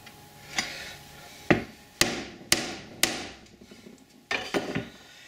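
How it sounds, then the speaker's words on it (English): Sharp metallic hammer strikes on a punch, about seven irregular taps spaced a second or so apart, fairly quiet with a faint room hum between. "just put a punch mark there for the drill"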